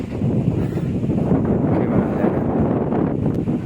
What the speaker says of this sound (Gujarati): વાયરો કેટલો હોય તમે આ બાવળ ઉપરથી તમે અંદાજો લગાવી શકો.